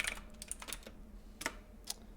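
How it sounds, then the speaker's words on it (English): Computer keyboard typing in a quiet room: a few clustered bursts of keystrokes separated by pauses, fairly soft and close, with no voices. "I'm typing."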